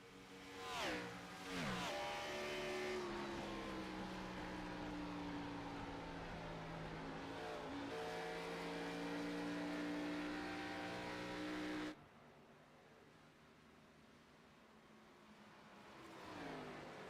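Race cars howl around an oval track at Indianapolis in a sim racing game, a loud sustained engine drone with rising and falling pitch as cars pass, then dropping to quieter engine noise near the end.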